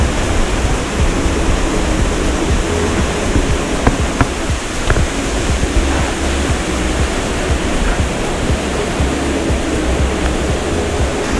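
Niagara Falls roars with millions of gallons of water spilling over, a loud steady wall of rushing noise with wind, unbroken and with no voices.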